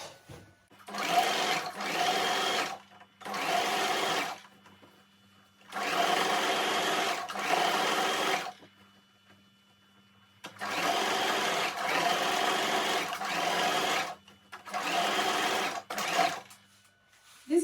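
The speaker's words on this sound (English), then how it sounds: "you take it to your sewing machine and stitch from here to here" A sewing machine runs in several bursts of rapid stitching, each lasting a second or two, separated by short quiet pauses.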